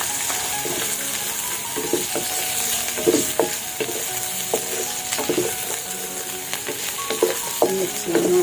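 Boiled pork belly sizzling in a pan of sautéed cabbage with chili, a steady close fry with repeated stirring clinks and scrapes throughout.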